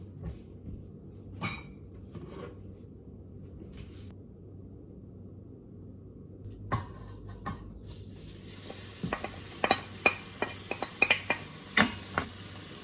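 Pork igado sizzling in a pan, a steady low fry with occasional scrapes and clinks of a utensil stirring, growing busier and brighter toward the end, with no talking.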